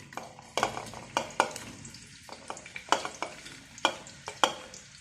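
Onions stirred and frying in a pot for mutton biryani, close and clear, with a steady sizzle broken by repeated scraping strokes of a spoon against the metal.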